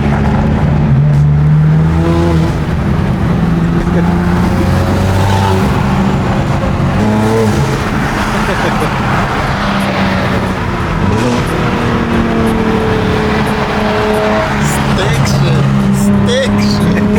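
Loud, raspy BMW G80 M3 engine at a cars and coffee meet, revving and rumbling close by with rising and falling pitch sweeps, while people talk over it throughout.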